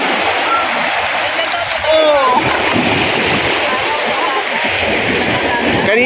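Water splashes and churns continuously on a shoreline, a loud, rushing wash with brief surges, while voices call out faintly in the background.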